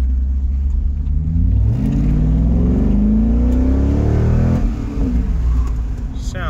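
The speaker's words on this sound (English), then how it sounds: "So maybe we can get a little of that exhaust note." A 2005 Chevrolet Corvette with 111,000 miles revs close up, its deep V8 exhaust note rising and falling in pitch through two throttle sweeps, loud and throaty with no talk over it.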